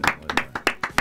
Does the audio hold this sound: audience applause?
yes